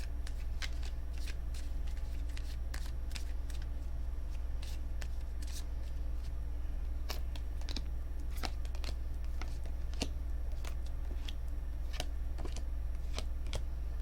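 A tarot deck gets shuffled over and over, brisk papery flicks and snaps repeating at an uneven pace for about fourteen seconds, close and fairly quiet above a constant low hum.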